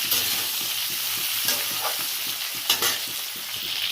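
Winter vegetables and eggplant frying in oil in a pan for a light curry, a loud, steady close sizzle with intermittent stirring scrapes and no talking.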